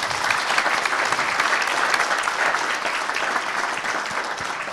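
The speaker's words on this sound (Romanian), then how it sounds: "Vă rog să-i încurajăm cu aplauze" Audience at an entrepreneurship conference session applauding the guests, a sustained and even round of clapping from a sizable crowd that stays fairly steady for nearly five seconds.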